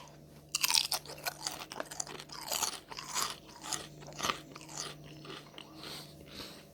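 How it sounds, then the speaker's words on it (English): Close, loud crunching and chewing of Walkers crisps, a run of sharp bites followed by irregular mouth-noise crunches with brief pauses, no talk. "That's a Walker's crunch."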